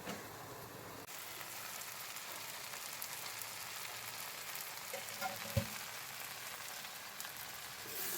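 Okra (bhindi) frying in a pan, a steady close hiss of sizzling oil throughout with a brief clatter midway, quiet and continuous.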